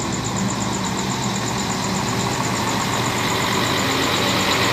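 At the Pekanbaru bus terminal, a bus engine idles with a steady, loud mid-range rumble and a constant high whine, heard close and continuous throughout.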